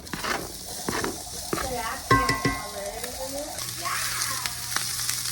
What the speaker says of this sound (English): So in here, I'm gonna saute half of a red onion.